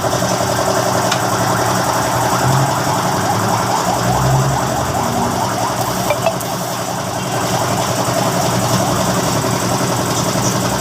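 A Mitsubishi Mirage G4 engine idles steadily and close by in a service bay during an oil change, a continuous rumbling drone with faint mechanical ticking and brief background noises.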